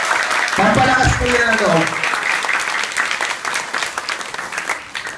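Loud crowd applause fills the clip, with a voice speaking over the clapping at the start before it thins out.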